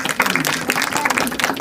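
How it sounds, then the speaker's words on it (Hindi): Audience applause at a Shiv Jayanti program in Narendra Nagar, Uttarakhand, a short burst of dense clapping at close range with some voices mixed in. "एक बार और जोरदार तालियां हो जाएं।"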